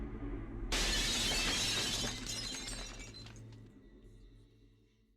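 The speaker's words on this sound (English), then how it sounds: "The sound of it shattering finally shook me out of my trance." A glass screen to a balcony shatters in a visual novel video game: a sudden loud crash followed by tinkling fragments that fade out over a few seconds, heard alone over a low background hum.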